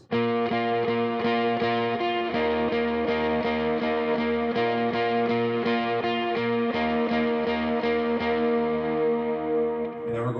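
Electric guitar vamping a repeated chord pattern through distortion and chorus effects, steady and loud, ringing out at the end.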